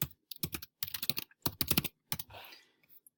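Typing on a computer keyboard while entering a works-cited entry for a website article: several quick bursts of close key clicks separated by short pauses, ending in a softer brushing noise.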